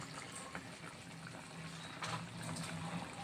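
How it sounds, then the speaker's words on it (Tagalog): Water is poured into chicken afritada cooking in a pan, making a steady, close splashing and gushing with a faint bubbling under it and no talk. "Lagyan natin ng kaunting tubig."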